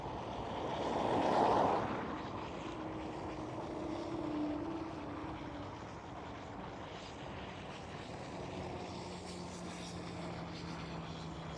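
An airliner on its flight from Luxembourg approaches Amsterdam Schiphol, a distant engine roar that swells over the first couple of seconds and then fades into a low steady rumble.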